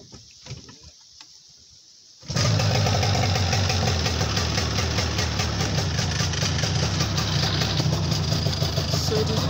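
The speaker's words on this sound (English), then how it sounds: "so the engine is starting" After a couple of quiet seconds, an engine abruptly cranks and catches, then settles into a loud, steady idle with a faint knocking rhythm that continues to the end.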